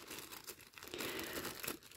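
Crinkling and rustling of a zip-lock plastic bag being handled while repotting violet offsets, close and continuous for about two seconds with no talking.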